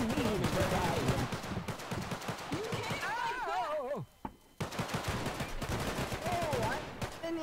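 Rapid bursts of video game gunfire crackle loudly through most of the stretch, mixed with a busy game soundtrack, with a short drop-off near the middle.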